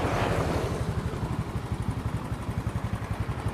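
A Honda motorcycle engine idles nearby with a steady, rapid chugging pulse, loud and even throughout.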